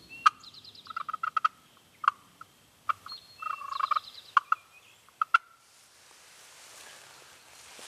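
A wild turkey gobbles in several quick bursts of rattling calls during a spring hunt, interspersed with single clucks and yelps, fairly close, then falls quiet against faint background noise.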